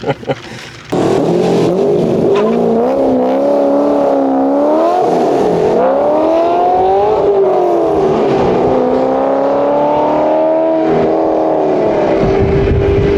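A car engine revs hard while its stock clutch is slipped, a loud close droning whine that climbs, dips and swoops in pitch, continuous after a brief quieter start.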